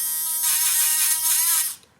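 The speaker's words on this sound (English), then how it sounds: "This is a battery-operated engraver that has a carbide tip." A battery-operated engraver with a carbide tip buzzes in one close, steady, high whine for nearly two seconds, then cuts out.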